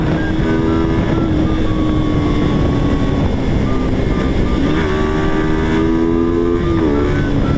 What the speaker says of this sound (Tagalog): Medyo traffic pa nga dito, oh.